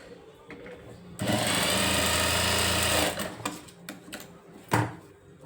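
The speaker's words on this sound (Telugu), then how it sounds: "ఇప్పుడు మనం ఇలా కుట్టిన తర్వాత పైని ఎడ్జ్ కుట్టేసి రావాలి" A sewing machine stitches the edge of a blouse lining in one loud, steady two-second run of rapid whirring, with brief handling clicks and a knock afterward and someone speaking softly.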